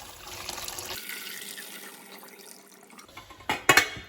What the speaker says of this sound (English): Once your potatoes are finished cooking, you're just going to strain them off.